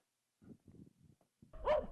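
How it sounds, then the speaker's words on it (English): Dogs bark and yip at night, starting as a few muffled, scattered barks and building to a louder, sharper outburst at the end. "Hush, you dogs!"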